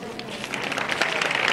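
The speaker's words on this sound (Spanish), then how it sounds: "pedir un fuerte aplauso para todos nuestros pequeños artistas" An audience at a Christmas zambomba and living nativity scene held by a Nazarene brotherhood applauds the child performers, with dense, continuous clapping that grows steadily louder.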